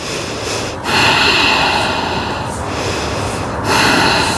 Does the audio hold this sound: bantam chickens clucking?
no